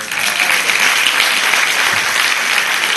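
A crowd at a live tango concert in Alter do Chão applauds loudly and steadily, a thick continuous roar of clapping with no gaps.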